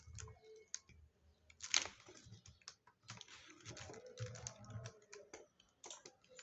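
Keys clatter on a computer keyboard in quick irregular bursts while someone enters labels in Mitsubishi GX Works PLC programming software, with one louder clack partway through and low hum beneath.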